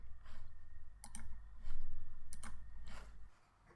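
A few crisp mouse clicks while working in Microsoft Excel, two sharp double clicks close by over a low hum of room noise and softer ticks.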